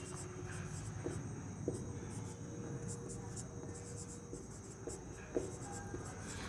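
Pen scratching out an equation on paper, a faint steady scritching with a few light taps, close by under a low background hum and a person talking.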